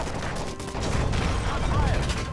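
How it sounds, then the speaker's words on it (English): Gunfire in the Modern Warfare 3 video game, a dense continuous rattle of shots and mechanical clatter during a chaotic mission scene, with shouted voices over it. "That's gunfire!"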